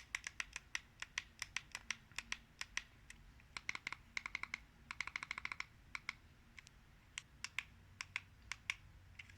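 Quiet typing on a computer keyboard, a close, irregular run of light clicking keystrokes in quick bursts with short pauses, steady at low volume.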